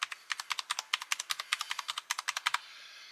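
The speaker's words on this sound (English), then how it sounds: "we can just type random things" Keys clatter on an Alienware 510K mechanical keyboard, about twenty crisp, evenly spaced clicks in a quick steady rhythm, close and clear with no talk.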